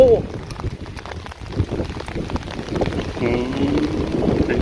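Rain pours steadily on a misty mountain morning, a dense wash of patter close around, with voices talking over it.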